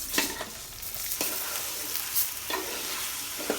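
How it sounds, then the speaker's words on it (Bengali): Onions fry in hot oil for polao with a steady, close sizzle, broken by a few scraping stirs of a spoon in the pan. "পোলাওর জন্য পেঁয়াজগুলো দিয়ে দিলাম, দিয়ে দেব তেল"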